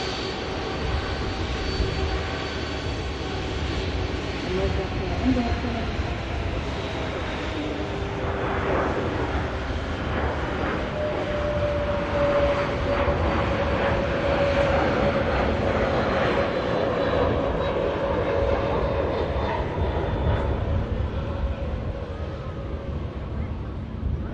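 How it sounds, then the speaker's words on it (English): A Lufthansa Airbus A320neo taxis at Manchester Airport, a steady broad engine roar and whine heard from a distance outdoors, with wind noise over the microphone. "Lufthansa A320neo on the move here."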